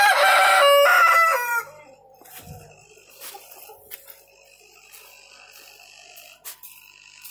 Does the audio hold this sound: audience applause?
no